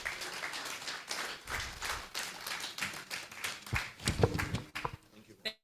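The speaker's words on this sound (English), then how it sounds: "Please keep clapping for Mr. Pedro Omotume" Audience clapping at an economic review and outlook conference, a moderate patter of hands with scattered sharper claps, fading out toward the end.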